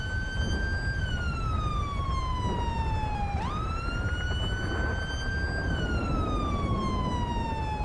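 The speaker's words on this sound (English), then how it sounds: "You need to turn the siren off." A police car siren in the GTA 5 video game wails steadily, its pitch sliding slowly down and back up over a constant engine-like rumble, loud and continuous with no talking.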